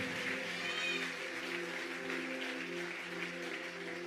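A church congregation claps loudly and steadily throughout, a dense wash of applause over sustained music tones.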